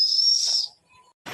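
A pressure cooker cooking dal on a chulha lets out one loud, shrill, steady whistle lasting just over half a second, then fades to near silence with a faint thin tone before a short hissy burst at the end.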